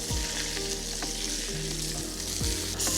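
A steak sizzles steadily in a hot pan and flares briefly as it is flipped, with a fat cap that will be rendered. The frying is loud and continuous, with faint clinks of handling.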